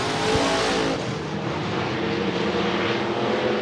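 Stock cars racing into a turn on an oval speedway, a loud, dense roar of several engines droning steadily with no break.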